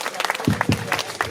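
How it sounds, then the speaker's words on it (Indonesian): An audience at a Balinese Calonarang performance outside the Pura Prajapati temple gives a short burst of close, crisp hand claps with separate sharp slaps. "tepuk tangan malih pisan untuk semeton di tiang sarang sami"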